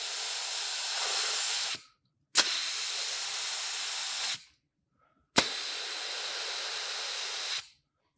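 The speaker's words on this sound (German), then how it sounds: "Ich drücke jetzt auf die Druckablasstaste." Three long, steady bursts of air hiss from the pressure release valve of an IMI Pneumatex Statico SU/SG expansion vessel as its pre-charge is lowered, each lasting a couple of seconds, separated by short silent pauses, close and loud, with no talking.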